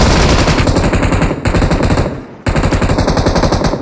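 Sustained automatic gunfire in a mobile battle-royale shooter game, rapid continuous bursts filling the clip with two short breaks, loud and close.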